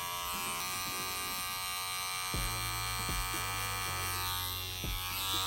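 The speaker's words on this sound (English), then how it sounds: "I'm flicking this clipper open into that section, but fading up, flicking up" Electric hair clippers hum close up while fading hair, a constant buzzing drone with a few sharp clicks and short changes in tone as the blade is flicked through the hair.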